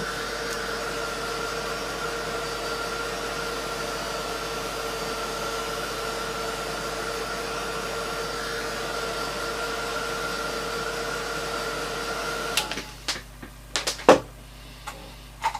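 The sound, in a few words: heat tool blowing hot air for heat embossing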